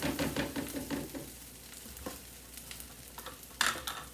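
Butter sizzles in a hot pan with rice, steady frying hiss that is louder at first and then settles, with stirring scrapes and a sharp clatter near the end.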